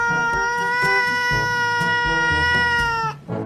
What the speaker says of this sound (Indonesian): kucing ini langsung mengeluarkan suara penolakan